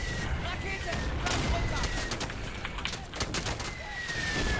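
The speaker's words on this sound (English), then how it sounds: "And they have machine gun fire." Distant, continuous machine gun fire and scattered shots on a World War II beach defense in Day of Infamy, a steady rattling battle bed with occasional louder cracks, under faint voices.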